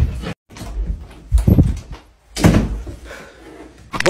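A door opens with several close thumps and rattles, scattered knocks and bumps in an irregular sequence, loud and near.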